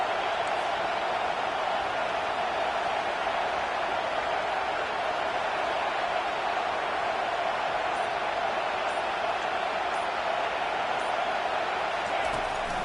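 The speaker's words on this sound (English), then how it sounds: "Decibels rising as the crowd gets behind this defense on 3rd down." A football stadium crowd cheers the defense on third down, making a continuous, even roar that holds steady throughout without clear peaks.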